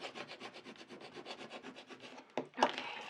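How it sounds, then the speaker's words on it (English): A scraping tool rubbed back and forth over craft vinyl on transfer tape, a quick regular series of close, soft scraping strokes ending in a couple of sharper scuffs. "Just using my scraping tool to really scrape down the vinyl to the"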